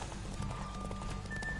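Horse hooves gallop in The Witcher 3 during a horse race, a dense, continuous clip-clop rhythm under a rushing wind bed, steady and close throughout.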